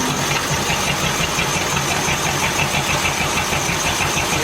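Ford flathead engine being brought back to life runs close and loud with a rhythmic, lumpy idle and distinct knocking pulses, with no talk over it.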